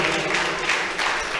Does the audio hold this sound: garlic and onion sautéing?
no